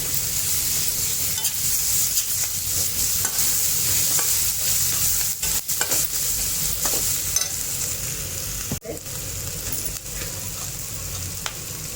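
Tomato with ginger-garlic paste sautés in a pan, producing a constant close crackling sizzle broken by a few sharp stirring scrapes, with no voices.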